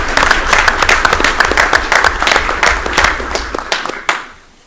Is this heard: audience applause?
yes